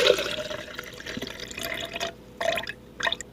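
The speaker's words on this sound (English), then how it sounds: "So we poured that juice into the blender" Ginger juice pouring into a blender, a soft trickling and dripping splash with a few brief louder spurts, fairly quiet and close, no talk.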